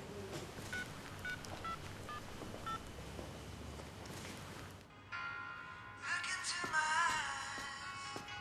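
A telephone rings in an indoor domestic setting, a bright repeating electronic tone that enters partway through after a stretch of quieter room noise and rises in level toward the end.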